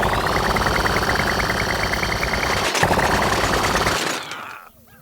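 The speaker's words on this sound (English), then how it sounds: "if you listen, you can hear the whir. Bullet impacts are there." Corn weapon in Plants vs Zombies GW2 firing a steady, rapid automatic stream with a whirring spin and small pinging bullet impacts, continuous and loud before cutting off and trailing away near the end.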